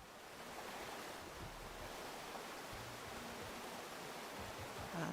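Ocean waves in a video game as the player wades into the water, a steady wash of surf with a windy hiss, soft and continuous with no speech.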